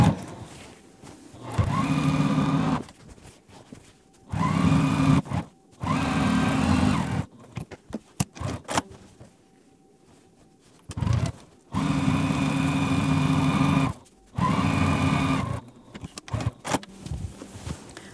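A sewing machine stitches a quilted pillow in loud, close bursts of rapid whirring, a couple of seconds each, separated by quiet pauses with small clicks and handling sounds.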